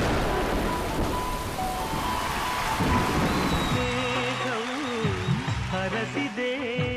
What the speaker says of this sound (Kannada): ಮಳೆ, ಗುಡುಗು, ಸಿಡಿಲು.